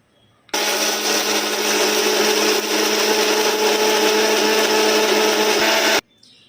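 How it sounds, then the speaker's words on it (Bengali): Electric mixer grinder grinding mustard seeds with water, starting abruptly, running as a loud, steady whirring drone for about five seconds, then stopping sharply. "সর্ষে কিংবা পোস্ত বাটতে গেলে তোমার জল একটু বেশি বেশি না দিয়ে বাটলে না একেবারেই ভালো হয় না মিক্সিতে"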